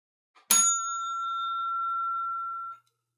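One bright ding of a small bell rings out, clear and close, its metallic tone sustaining for a couple of seconds before cutting off.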